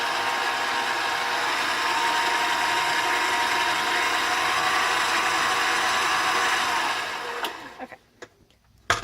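An electric mixer whirs steadily while beating cookie dough, a loud continuous motor drone with a faint rattle that runs for about seven seconds before cutting off, followed by a few light clicks and knocks.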